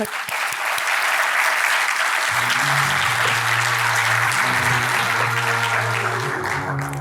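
Loud, sustained applause fills a welcome reception for the 2023 incoming law students at FGV Direito SP, with a low musical hum entering partway through beneath the clapping.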